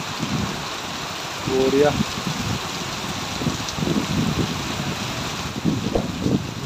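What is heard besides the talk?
heavy rain falling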